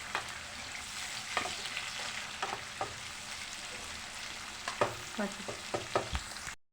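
Onions frying in a pan for mutton curry hiss continuously at moderate level, with repeated spatula scrapes and knocks in an irregular rhythm, close by, before fading out at the end.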